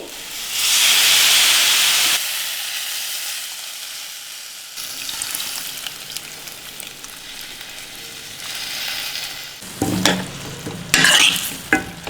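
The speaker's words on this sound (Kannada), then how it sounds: "ನಾನಿಲ್ಲಿ ಒಂದು ನಿಂಬೆಹಣ್ಣಿನ ಗಾತ್ರದಷ್ಟು ಹುಣಸೆ ಹಣ್ಣನ್ನು ಸ್ವಲ್ಪ ಹೊತ್ತು ನೆನೆಸ್ಬಿಟ್ಟು ಕಿವುಚಿ ಆನಂತರ ರಸ ಹಾಕ್ತಾ ಇದ್ದೀನಿ." Tamarind juice poured into a simmering drumstick curry sets off a loud burst of hissing sizzle that fades into bubbling, then gives way to stirring clatter and spoon knocks against the pot near the end, no talking.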